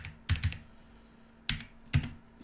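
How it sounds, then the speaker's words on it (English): Keys clack on a computer keyboard during a hacking session: a few separate, clear keystrokes in small pairs with pauses between them, close and alone over a low steady hum. "you can't really see what I'm typing"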